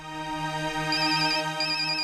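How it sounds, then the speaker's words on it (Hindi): A mobile phone ringtone plays a steady, looping electronic melody, loud and close, with no voices over it. "ऑफिस से फोन है, मुझे जाना होगा।"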